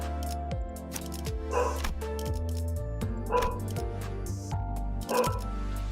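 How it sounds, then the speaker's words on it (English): A dog in the Limbus Company video game barks and yips repeatedly over layered musical game tones and effects, several short barks clustered near the foreground. "There's a dog on the battlefield! Get him off!"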